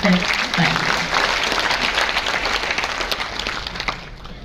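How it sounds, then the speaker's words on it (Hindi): An audience at a Hindi Day event in Jaipur applauds the minister with loud, sustained clapping that fills the hall and gradually tapers toward the end. "जोरदार तालियां माननीय मंत्री महोदय के लिए।"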